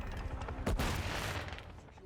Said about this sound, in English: A flash grenade.